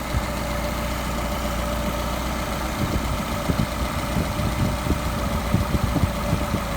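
A Solex carburetor engine idles steadily at close range during fine idle-mixture adjustment, a continuous low rumble with slight unevenness and occasional irregular beats in the later seconds.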